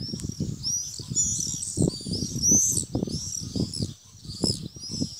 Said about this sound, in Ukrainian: І птахи літають.